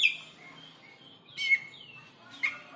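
Oriental magpie-robin (kacer) singing loudly, clear whistled phrases and sharp chirps in bursts with short quiet gaps, close and alone.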